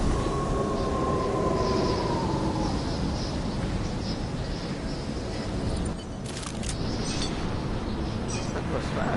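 A train passing in the video game Deus Ex: Mankind Divided, heard as a steady, dense, wide rumble with a faint high whine that fades and thins after several seconds.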